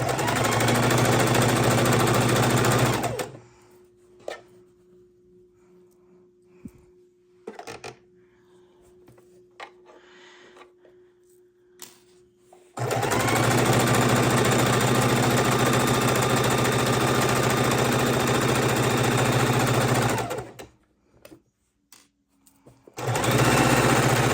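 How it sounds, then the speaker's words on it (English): A sewing machine stitches a microwave potato bag in loud, continuous whirring runs, stopping for a pause filled with faint clicks and handling before running again, then stopping briefly and restarting. "Needle down, foot up, pivot, lock in your corners."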